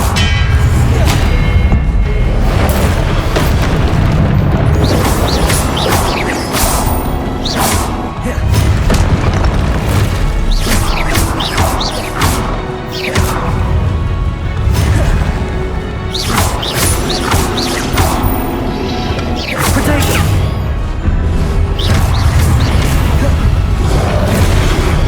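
Spell explosions go off during Hogwarts Legacy combat, with dense, loud booms, crashes and impacts bursting in rapid succession over a heavy rumbling game soundtrack.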